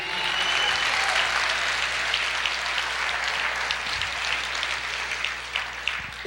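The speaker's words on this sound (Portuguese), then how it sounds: "Você pode aplaudir o Senhor e dizer, eu creio." Church congregation applauding during a sermon, sustained dense clapping from many hands at an even level throughout, with a faint low hum underneath.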